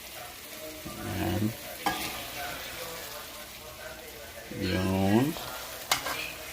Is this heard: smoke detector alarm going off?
no